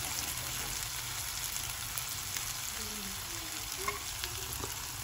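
Chicken dropped into masala gravy in a pan, a dense, even frying hiss that holds steady throughout, close and moderately quiet, with a faint voice murmuring underneath.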